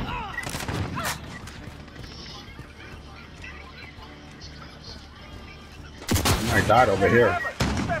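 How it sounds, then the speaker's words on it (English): Gunfire in a close match of Call of Duty: Modern Warfare, including shotgun blasts, with a few sharp shots early, then a loud burst of firing near the end, under steady game noise and a player talking. "I'm shooting this person with a shotgun"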